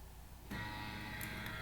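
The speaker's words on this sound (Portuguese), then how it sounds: "Barulho, impressora desligando aí." A printer powering down, with a sudden steady mechanical whir and hum that starts partway through and continues at an even level in a quiet room.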